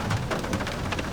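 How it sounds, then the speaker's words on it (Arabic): Rain falls steadily outside during a storm in a forest setting in America, a dense even patter with scattered drop hits heard through a door or window, moderately loud and without talk. "عشان المطر عمال تمطر"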